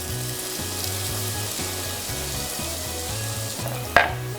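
Chopped tomatoes sizzle steadily in a hot frying pan for a Burmese egg curry, a continuous close hiss with a low rhythmic hum beneath and a brief sharp clatter near the end.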